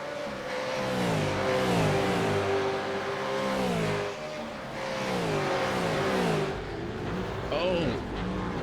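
Supercar engines scream out of a hairpin at Long Beach in an iRacing simulation, revs climbing and shifting in repeated waves, loud and close, with a race commentator talking over the top.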